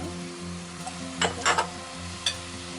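Pork stir-frying in a pan with garlic, ginger, gochugaru and gochujang, a soft steady sizzle broken by a few sharp scrapes and clatters of stirring.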